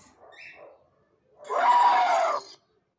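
An elephant call, part of a wild animal sound guessing game: a short faint trumpeting hint is followed by one loud, sustained, harsh trumpet blast lasting about a second.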